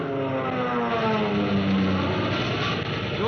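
RAF propeller warplanes roar overhead as a radio drama effect, a dense, loud, steady engine drone with throbbing harmonics that holds for the whole stretch.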